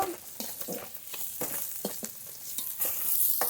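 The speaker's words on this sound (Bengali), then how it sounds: "বাকি মাছগুলো একই তেলে ভেজে নেব" Fish, rohu-type pieces, sizzling in hot oil in a home kitchen pan, with a continuous crackling hiss punctuated by several sharp utensil scrapes and taps as the pieces are turned, no talking.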